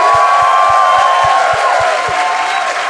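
A live podcast audience breaks into loud applause and cheering for a guest comedian, close and energetic clapping with whoops, while a regular low thumping beat runs underneath.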